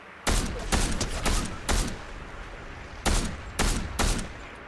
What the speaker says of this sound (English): He aimed at me, so I shot.